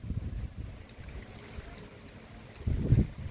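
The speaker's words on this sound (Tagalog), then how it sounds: "tingnan nyo naman gaano kalakas yung hangin" Strong wind gusts across an open hilltop campsite with tents, a steady rumbling roar buffeting the microphone and swelling louder near the end.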